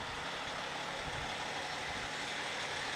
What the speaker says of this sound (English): He's probably in his Oshkosh truck.